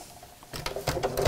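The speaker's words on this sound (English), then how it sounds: "I'm just going to put a few stitches across the top just to tack or base those in place" A sewing machine starts stitching across the top of a fabric tote bag, its motor whirring up after a quiet half second into a close, rapid mechanical patter.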